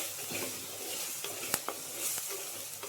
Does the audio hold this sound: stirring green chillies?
yes